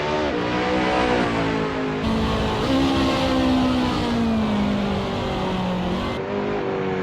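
A 2009 BMW M3 GT3 race car with 485 horsepower howls steadily in a racing game, its engine note climbing and shifting gears through high revs, loud and constant with no talk.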